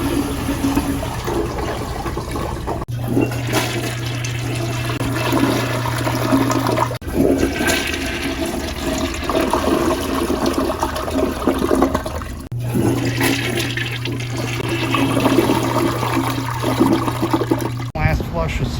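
A household toilet with paper in the bowl flushes twice in a row, each a loud, close rush of swirling water lasting several seconds and then gurgling away into a softer trickle.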